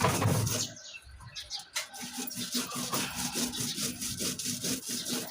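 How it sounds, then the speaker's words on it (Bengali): Black cumin paste is ground by hand on a stone slab (shil pata), a rhythmic scraping and rubbing stroke repeating steadily and close, with faint birdsong in the background. "কালো জিরা ভর্তাটা একটু মিহি হলে খেতে ভালো লাগে করে বেটে নিচ্ছি"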